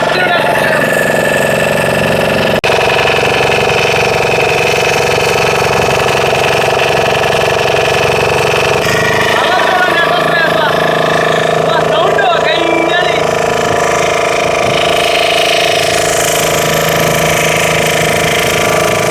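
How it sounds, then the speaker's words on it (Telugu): The engine of a large motor fishing boat out at sea drones loudly and steadily throughout, a constant close mechanical rumble with faint voices mixed underneath. "ఫస్ట్ టైం ఇంజిన్ బోట్ ఎక్కడం."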